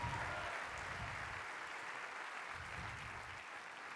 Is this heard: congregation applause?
yes